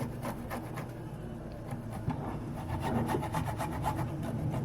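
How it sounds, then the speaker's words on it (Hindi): Garlic and ginger are ground by hand for a Punjabi turnip and pea dish, giving a steady close scraping, rasping rub with rhythmic strokes that grows a little louder toward the end. "लहसुन अदरक को हम हाथ की मदद से ग्राइंड कर लेंगे"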